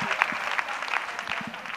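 Church congregation clapping during a prayer service, scattered hand claps in a loose, uneven rhythm with a faint background voice beneath, moderately quiet and fairly close.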